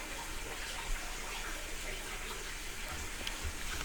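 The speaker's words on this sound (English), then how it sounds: "The tub is running, Kitty." A bathtub faucet runs, filling the tub with a steady, soft, even rush of water heard from a short distance, with no breaks.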